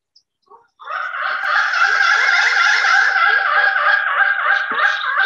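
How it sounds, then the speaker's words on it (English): A pileated woodpecker gives a loud, sustained run of rapid nasal woika-woika calls, close by and steady for several seconds, with no talking. "That's the woika woika sound that the pileateds make."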